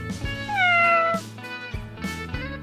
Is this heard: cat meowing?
yes